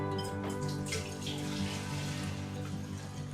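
Pumpkin and brown sugar mash for whiskey is poured back and forth between containers, giving a steady, close, continuous splashing and gurgling pour with no voices.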